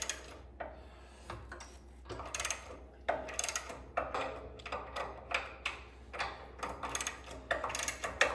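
A wrench loosening a 15/16 bolt on the shock absorber of a 1970 Monte Carlo, heard as a close series of sharp ratcheting clicks in short repeated bursts over a faint steady hum.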